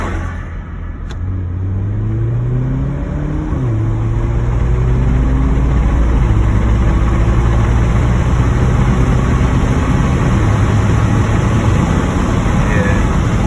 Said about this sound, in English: I'm gonna do a 20 roll from second gear.